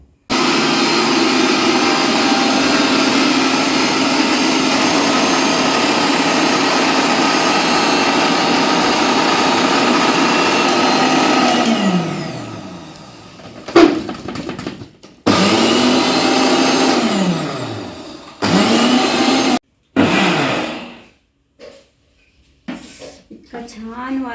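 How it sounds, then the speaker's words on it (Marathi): A kitchen mixer grinder whirs loudly and steadily while grinding homemade Maharashtrian black masala spices, then slows and stops, restarting in several short bursts near the end. "तेव्हा मी फिरवणार आहे मिक्सरमध्ये."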